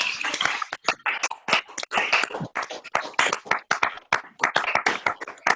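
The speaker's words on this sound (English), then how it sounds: "give Rosa a big round of applause" An online audience on unmuted video call microphones applauds speaker Rosa, uneven clapping from several participants that stays lively and fairly close throughout.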